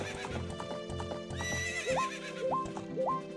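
Horse neighs and clip-clopping hooves in The Legend of Zelda: Ocarina of Time, a steady loud hoofbeat rhythm with several sharp rising whinny calls layered over game music.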